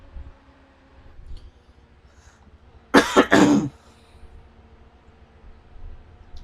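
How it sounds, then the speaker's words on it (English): A short burst of two or three harsh coughs in the middle, loud against quiet background hum, with silence before and after. "Sorry for all the coughing"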